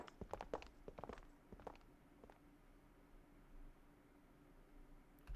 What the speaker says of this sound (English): They heard footsteps moving away, and before long, they were alone again.